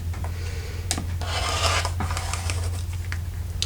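A blade slices fabric into bias strips against a ruler, giving a steady scraping rasp with a few sharper strokes, close and alone.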